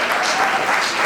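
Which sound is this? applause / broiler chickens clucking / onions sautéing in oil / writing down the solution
applause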